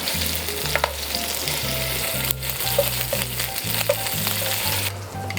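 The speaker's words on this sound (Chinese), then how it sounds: "牛肉的4面都给它煎一下" Beef sizzles steadily in a hot pan as all four sides are seared golden, with a continuous frying hiss and no talking.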